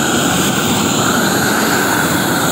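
A propane torch roars loud and close as it heats Firestone torch-down roofing membrane, a steady, unbroken blast with no talk over it.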